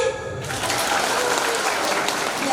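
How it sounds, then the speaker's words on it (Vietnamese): A dense round of applause fills a hall at a Vietnamese Catholic community gathering in the Central Highlands, starting abruptly and holding as a loud, even roar of many hands. "Chúng ta cho Xài Lắc một tràng pháo tay."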